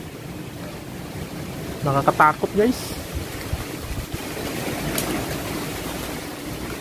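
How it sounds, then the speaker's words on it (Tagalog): Strong wind from Typhoon Odette at Signal No. 4 in Cebu roars in a steady, broad rush throughout, and a voice speaks briefly over it partway through. "Yung tunog ng hangin at saka yung tunog ng mga kahoy"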